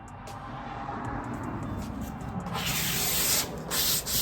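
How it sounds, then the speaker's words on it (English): A 220-grit sanding block rubs steadily over a wood finish between coats on a furniture piece, a close, continuous scratchy hiss that brightens and grows louder toward the end, with no talking. "sanding in between each one using a 220 grit block"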